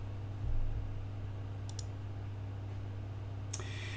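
Mouse clicks during a Debian Jessie 8.5 installation, heard as a few faint, sharp clicks, a pair near the middle and another near the end, over a steady low computer hum.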